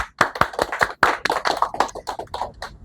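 A small audience claps for a stand-up comedian: a few close, sharp, uneven hand claps that thin out and trail off over a few seconds.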